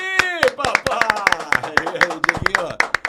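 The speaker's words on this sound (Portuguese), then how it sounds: "E agora uma salva de palmas pro nosso Fábio Azevedo" Handclapping welcoming a guest on a football podcast set, sharp irregular claps close by mixed with excited voices and shouting over them.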